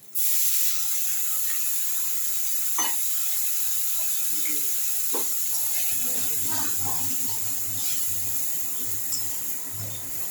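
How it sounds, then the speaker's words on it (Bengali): Water poured onto frying ground coriander, cumin and turmeric masala for pea ghugni gives a steady hissing sizzle with scattered pops and clinks, fairly close and moderately faint. "একটু জল দিয়ে দিচ্ছি তাহলে মশলাটা ফুলে যাবে"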